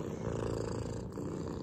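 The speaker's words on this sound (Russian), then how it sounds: "Слышите, как он мурлычет?" A pet cat purrs close up, a steady low rumbling purr that continues without break, fairly quiet, with no talk over it.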